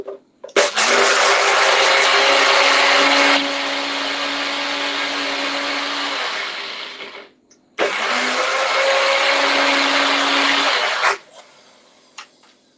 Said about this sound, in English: I'm going to blitz these nuts for this nut roast